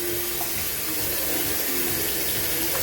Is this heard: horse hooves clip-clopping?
no